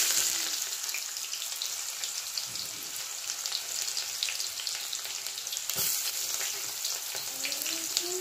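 Onions hit hot oil already crackling with mustard seeds and urad dal, producing a steady, close sizzle and hiss with light stirring scrapes throughout for a Malabar spinach dish.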